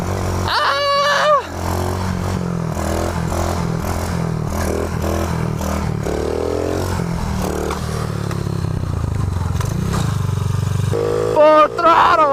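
Motorcycle ridden at full throttle along a concrete road, its engine roaring loudly and continuously as it revs up and shifts, with a voice briefly audible over it.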